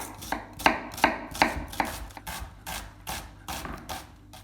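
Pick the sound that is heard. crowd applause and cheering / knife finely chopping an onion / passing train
knife finely chopping an onion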